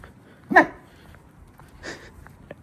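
A pet dog at night gives one sharp bark, followed by a softer bark or whimper about a second later and a faint yip near the end, close by in a quiet room.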